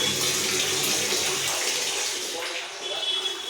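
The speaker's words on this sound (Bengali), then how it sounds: "জল পড়ছে।" Water running from a geyser tap in a hotel washroom, a steady broad splashing stream that fills the clip at close range, with faint room noise behind it.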